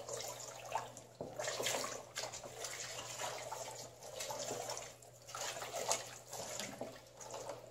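Ethanol is poured into a large batch of thickening homemade liquid degreasing soap while it is stirred, making a continuous soft, faint pouring and sloshing sound.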